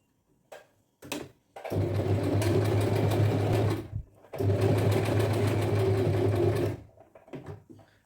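A sewing machine stitches a kurti, running in two long, loud, steady whirring bursts separated by a short pause, with a few brief mechanical clicks before and after.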